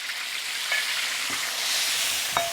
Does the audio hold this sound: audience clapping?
no